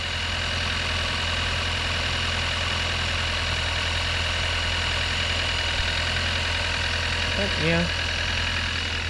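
A Kia K5 direct-injection engine idles after a cold start, giving a steady, even drone with a faint ticking texture that holds for the whole stretch, while someone speaks a couple of words over it.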